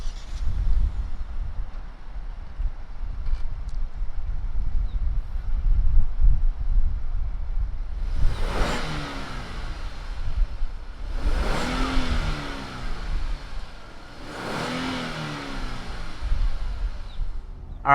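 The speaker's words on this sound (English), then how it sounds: "why don't we go ahead, fire up this Genesis G80 and see what it sounds like." A 2020 Genesis G80 Sport sedan engine idles steadily, then revs three times in sharp, close bursts, each climbing and dropping back to a low idle rumble, with no talking.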